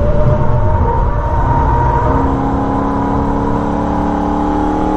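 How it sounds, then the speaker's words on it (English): Holden race car engine at wide open throttle on the Nurburgring, a loud, steady high-revving drone with a rising pitch, heard from onboard without talk. "Quick stab on the brakes, back into third gear, wide open throttle again and run the car all the way to the outside."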